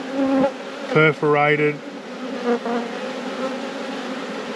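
Honeybees buzz steadily during an apiary hive inspection, a close, continuous hum running under a man's short spoken phrases.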